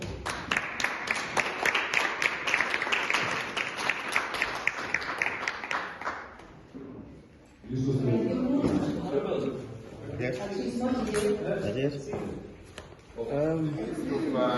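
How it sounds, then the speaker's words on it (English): A round of applause at a regional review event, dense clapping filling the first six seconds, then dropping away as a voice begins talking over a room. "Can we give them a round of applause?"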